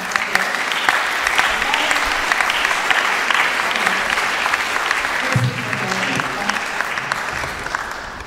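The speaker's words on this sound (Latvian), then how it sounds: "ar sirsnīgiem aplausiem sveicam" A large concert audience at a song festival gives warm, sustained applause for the choir conductors, thick and continuous throughout with a faint voice briefly under it.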